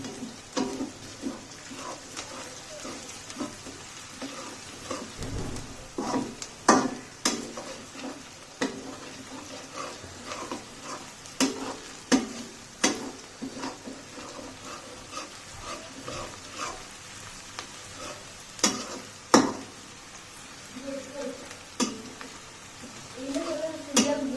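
Chicken pieces sizzle and fry in a pan for Peshawar chicken, a steady crackle broken by frequent clinks and scrapes of stirring, close and moderately loud.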